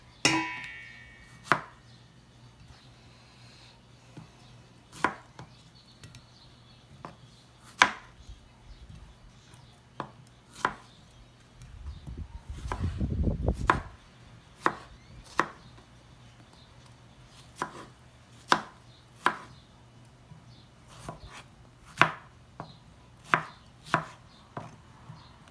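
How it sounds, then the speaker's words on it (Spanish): Knife chopping strawberries on a cutting board for a fruit salad, a steady run of sharp, close taps at an uneven pace, with a brief louder rustle partway through. "Ahora voy a cortar las fresas."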